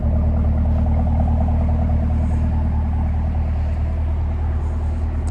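A 2024 Chevrolet Camaro ZL1 Convertible engine runs at a steady idle, a deep, constant rumble close by with no change in pitch and no talking.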